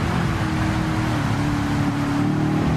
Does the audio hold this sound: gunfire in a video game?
no